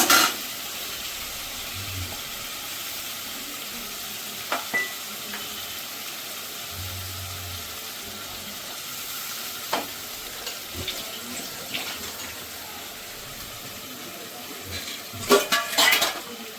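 Spice paste of tomato, chili and garlic frying in a pan, with a steady soft sizzle throughout and occasional scraping clinks of a utensil stirring, louder scrapes near the end.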